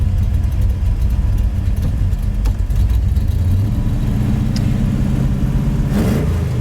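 1969 Chevrolet El Camino V8 with a two-barrel Rochester carburetor running at a fast idle just after a cold start, a steady loud close rumble that continues throughout.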